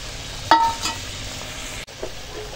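Fried okra drops into a boiling fish curry of parshe fish: a sharp splash and clink, then a brief sizzle over the low bubbling of the simmering pot.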